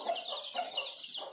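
Desi free-range hen tending fifteen chicks on a poultry farm in Hyderabad, giving soft, rapid clucks in short bursts close by, with no talk.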